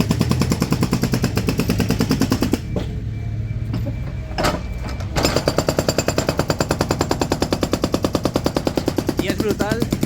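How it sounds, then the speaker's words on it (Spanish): A hydraulic hammer breaks up the ground at the Santiago Bernabéu stadium construction site, hammering in loud, rapid, steady bursts that stop for a few seconds and then resume. "la fuerza que tiene que tener ese martillo hidráulico para romper todo el suelo"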